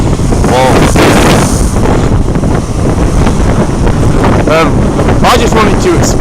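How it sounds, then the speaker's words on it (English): Strong wind buffets a microphone on Margate's Lido Sands beach, a loud, constant roar with gusts throughout, while someone speaks faintly beneath it. "And it's very windy."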